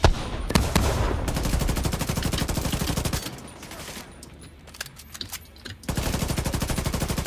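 Rapid automatic gunfire from a firefight in the co-op shooter game Tom Clancy's The Division 2. Dense bursts run loud and continuous, ease into quieter, scattered shots midway, then surge back to sustained heavy fire.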